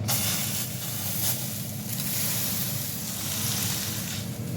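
Chicken smash burger meat sizzling on a hot pan, a loud, continuous hiss and crackle that swells in waves as the patty is pressed, close up with no talking.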